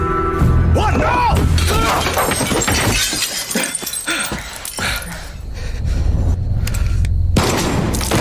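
Gunfire and crashing impacts in the video game Far Cry 6, a loud, dense burst of shots and shattering debris with voices and tense score mixed in.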